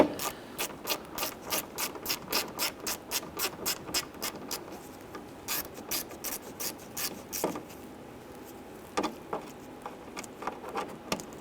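A hand ratchet drives T15 Torx screws on a Jeep Wrangler door, giving quiet, close, steady clicking bursts in an even rhythm, then a pause and a few sparser clicks near the end.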